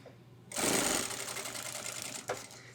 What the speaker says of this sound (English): Now that's under the machine, we're gonna do another tacking stitch.